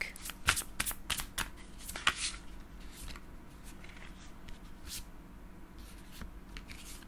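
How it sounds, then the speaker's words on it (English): A deck of tarot cards is shuffled in quick riffling bursts, close and crisp, with soft card rubs and taps between the shuffles in a quiet room. "Let's get one more card, maybe from the Sacred Forest deck."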